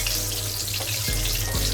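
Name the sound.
whole dry spices sizzling in hot oil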